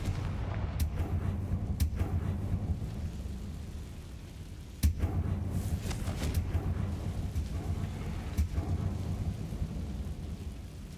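Confringo fire spell bursting in the Hogwarts Legacy video game, a rumbling, thunder-like boom with sharp cracks near 1 and 5 seconds over a steady low roar, no voices.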